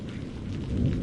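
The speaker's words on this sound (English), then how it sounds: "the fated night finally arrived, and with it came thunder and storm" Thunder rolls with rain through a stormy night over Mathura, a continuous low rumble with a steady wash of rainfall throughout the brief moment.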